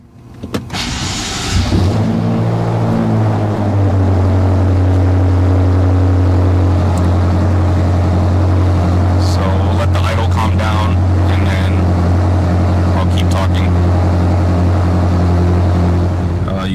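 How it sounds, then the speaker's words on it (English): A car engine cold start: it cranks and fires up, then settles into a loud, steady rumbling idle that holds close and constant. "I'm going to do a cold start right now. It's going to be fairly loud"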